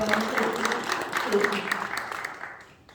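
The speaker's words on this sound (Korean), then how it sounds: "박수." A short round of applause at a church association general assembly, clapping mixed with voices that fades out toward the end.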